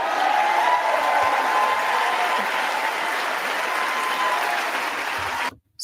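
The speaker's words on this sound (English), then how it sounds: "Stand, clap, on cue." A large audience stands and claps in a big hall, a loud, sustained roar of applause with a faint cheer beneath it, lasting over five seconds before cutting off sharply.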